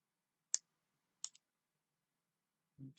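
Three crisp metallic snips as a wire cutter cuts through annealed wire rings, each short and sharp against near silence, followed by a soft dull knock.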